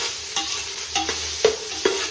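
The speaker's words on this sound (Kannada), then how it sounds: "ವಾಸನೆ ಹೋಗೋ ಗಂಟ ಫ್ರೈ ಮಾಡ್ಕೊಬೇಕು" Onions fry in oil in a pan while a spoon stirs them, soft steady sizzle broken by a few distinct scraping clinks, close and fairly quiet, with no talking.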